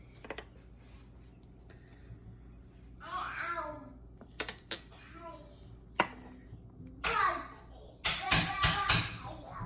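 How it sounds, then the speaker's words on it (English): Glass fermentation weights are set into jars of kimchi, giving a few sharp clinks and taps that come close and fairly quiet, with a voice talking softly between them. "we're going to add our glass weights"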